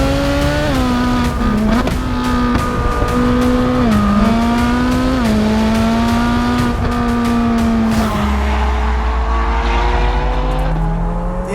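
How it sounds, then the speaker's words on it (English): A Ferrari 458 Speciale with a naturally aspirated V8 driving hard, its engine note loud and close, rising and falling through gear changes before dropping to a lower drone. "Ferrari began producing their last V8 supercar as well. 458 Speciale"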